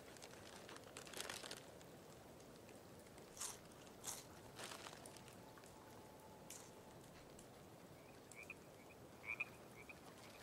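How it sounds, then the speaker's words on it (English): Frogs croak faintly in a quiet outdoor night scene in the video game Life is Strange 2, a few soft scattered croaks over low ambient hiss. "I hear frogs."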